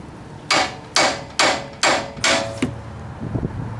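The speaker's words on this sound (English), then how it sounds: "just smack this part of the spindle with a hammer" A hammer strikes the steel steering spindle of a 2014-or-later Chevy Silverado or GMC Sierra five times in a steady rhythm, each sharp metallic whack ringing briefly, close and clear.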